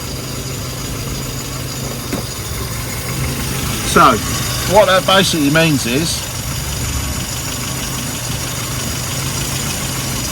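A classic car engine idling during a timing-advance tuning session at a Riviera run event, a steady low rumble throughout with someone talking over it.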